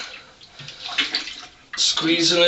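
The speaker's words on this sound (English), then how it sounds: "Now I'm just going to keep kind of sloshing it around and squeezing it" A deerskin is sloshed and squeezed in a tub of soapy, oily water, giving close, wet splashing and swishing that grows louder toward the end, with a voice heard briefly.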